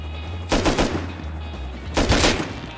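Two loud bursts of rapid automatic gunfire from the Rust survival video game, each volley lasting about half a second, with a low steady drone of background rumble between them.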